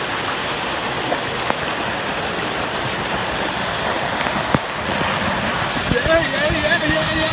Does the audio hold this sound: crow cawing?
no